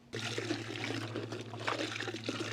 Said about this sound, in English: And once you're done with one side, with one panel, time to rinse it off.